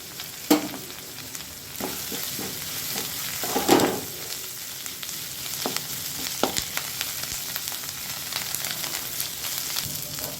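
Onion, green chilli and coriander leaves sauté in a pan for a spicy chutney, producing a steady sizzle with repeated spatula scrapes and one louder clatter near the middle, close and without speech.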